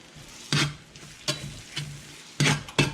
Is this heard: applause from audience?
no